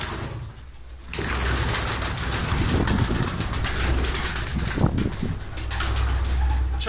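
Malatya pigeons crowd a loft of about two hundred birds, a steady busy rustle of wings and low cooing that starts abruptly after a quiet second and continues throughout, with occasional louder flutters.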